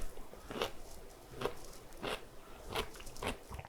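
Biting into a crunchy home-canned pickle: four or five close, crisp crunches spaced about half a second apart, quiet and intimate, with no talking.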